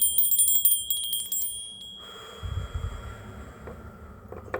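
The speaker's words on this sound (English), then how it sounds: "I'm actually gonna ring some bells, so I'm going to clean up the energy" Small bells rung during a spiritual energy-clearing session, a quick run of bright jingling strikes for about two seconds, then lingering ringing tones with soft background rustle, fairly close.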